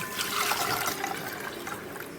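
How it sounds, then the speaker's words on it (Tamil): Water poured into a bowl holding ingredients for a weight-loss drink, a steady, close gushing and splashing stream that continues evenly without pause. "இப்போ நம்ம ஆட் பண்ணிக்கலாம், தண்ணி ஆட் பண்ணிக்கலாம்."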